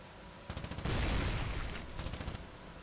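Mortar firing from a half-track in the game Foxhole: a rapid rattling burst followed by a heavy booming blast that rumbles and fades, fairly faint and distant.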